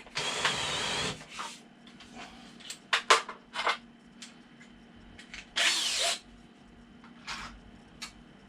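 Power drill countersinking a screw hole in wood for a bonsai backdrop build, with two loud sustained bursts of whining drill noise, one at the start and one later, plus scattered short clicks and tool handling between them.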